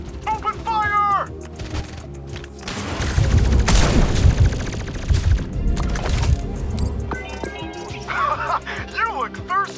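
Video game gunfire in a dense burst of rapid shots and booms, loud and close, layered with game effects and a voice speaking over it.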